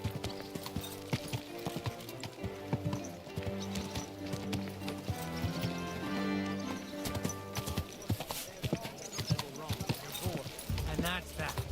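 Horse hooves clip-clop steadily while riding in Kingdom Come: Deliverance 2, set under game music and nearby talk, with a brief whinny amid the gameplay noise.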